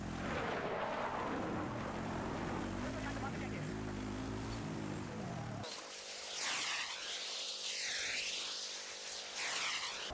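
Propeller airplanes flown by bots in the video game Battlefield 6 drone loudly overhead, a steady engine roar that shifts to sweeping passes as the planes circle, with a person talking over it.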